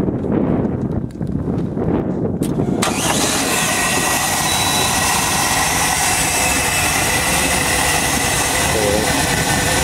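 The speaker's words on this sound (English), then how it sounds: "Well, Jeff, that's the engine. The cover open. Go ahead and crank it up now for you." A Malibu boat's engine cranks in rough, uneven bursts with the engine cover open, then catches and roars into a loud, steady running drone that holds to the end.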